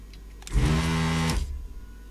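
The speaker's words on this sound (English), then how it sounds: "we'll use the vacuum desolder just to take this off here" A vacuum desoldering tool pulls solder off a circuit board, a short, loud whooshing suction burst of about a second over a steady low electrical hum.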